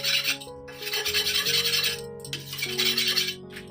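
A boti, a Bengali curved floor blade, is sharpened with steady back-and-forth rasping strokes that keep going for several seconds over a continuous droning tonal background.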